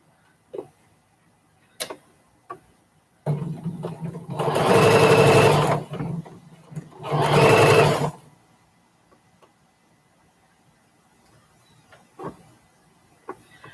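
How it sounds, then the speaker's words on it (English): A sewing machine stitches quilt pieces together in two loud bursts of running stitches separated by a short pause, with light clicks and handling noises before and after. "All right, so we'll sew this up."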